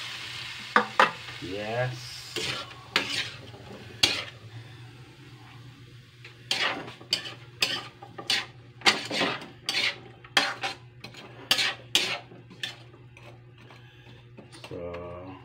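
Ampalaya (bitter melon) is stirred in a sizzling pan, with repeated sharp scrapes and clinks of a utensil against the metal in irregular bursts over a soft frying hiss. A voice speaks briefly.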